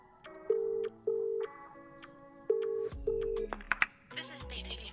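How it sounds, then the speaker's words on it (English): Telephone dialing tones sound as a series of short, evenly spaced beeps, followed by clicks and a brief burst of line noise at the end, fairly quiet. "The chief mate is making a phone call."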